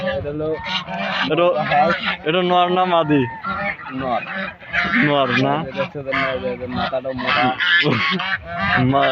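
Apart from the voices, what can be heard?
duck calling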